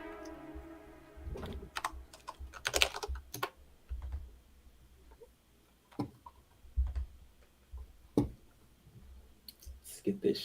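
Rapid clicking of computer keyboard keys in irregular bursts, close and fairly loud, with a short voice in between.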